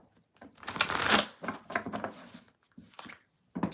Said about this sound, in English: I'm going to shuffle and move on to the Scorpio